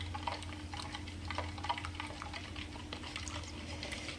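Gelatine protein hair treatment being stirred in a small bowl, a quiet run of rapid soft ticking and clicking strokes over a low steady hum, with no one speaking.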